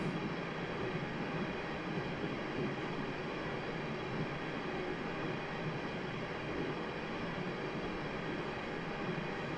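A Class 350 electric train running from Rugby to London Euston in a train simulator: a quiet, steady cab rumble and rolling noise that continues unbroken throughout, with no voices.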